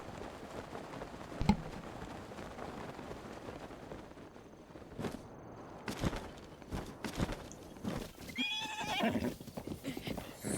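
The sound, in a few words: horse neighing and hooves in video game Breath of the Wild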